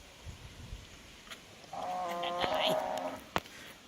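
A cow near a house moos once with a drawn-out, mid-pitched call in a rural yard, fairly faint and distant, with scattered clicks and light background noise around it.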